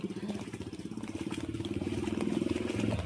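A motorcycle engine putters steadily nearby, its rhythmic chugging growing slightly louder as it moves through deep flood water from a storm, with faint splashing underneath.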